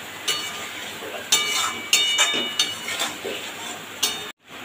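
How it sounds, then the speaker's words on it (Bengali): A utensil stirs spice paste in a pot of hilsa curry, giving a series of sharp metallic clinks and scrapes at irregular intervals over a steady background hiss, close and clear, with no talking. "এই সময় দিয়ে দেবো আমি এই পেস্ট করে রাখা মশলাটা, দিয়ে হালকা নেড়ে চেড়ে আমি এতে গরম জল অ্যাড করব"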